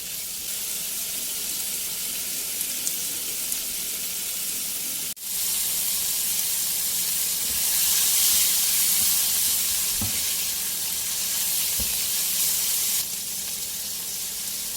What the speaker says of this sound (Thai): ก็ใส่หมูนะคะ ลงไปผัด